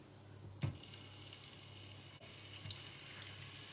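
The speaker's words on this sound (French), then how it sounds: "on va les mettre à frire. On va les mettre dans l'huile chaude" Steady, continuous sizzling of courgettes frying in hot oil, with a soft crackle throughout and a couple of brief knocks.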